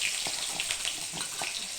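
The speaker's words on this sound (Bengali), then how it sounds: "প্রথমে আমি আলুগুলোকে ভেজে তুলে নেব" Potatoes frying in oil for a masala prawn dish, a faint, steady sizzle and hiss with small crackles throughout, no talking.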